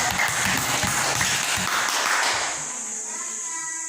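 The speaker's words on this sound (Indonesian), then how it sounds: "Oke, tepuk tangan untuk kelompok." Crowd clapping for a student group in an elementary school classroom fills the first two and a half seconds, dense and steady, then fades into quieter room noise.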